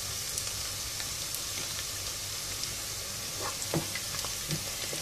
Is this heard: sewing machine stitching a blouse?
no